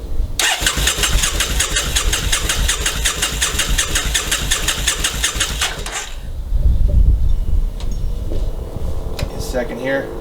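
Motorcycle engine with choke pulled and clutch in, cranking after a battery replacement: a fast rhythmic starter churn for about six seconds, then a brief low rumble and quieter mechanical noises.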